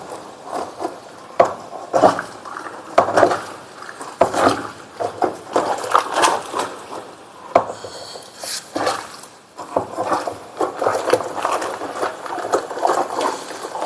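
Repeated scraping and knocking of a utensil against a metal pot of boiling sulphur mixture, irregular strokes with faint bubbling underneath, close by.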